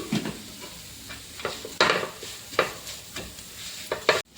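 Crushed coconut and salt are sautéed in a pan, with a spoon scraping and stirring in repeated strokes, several sharper clacks against the metal and a low sizzle underneath.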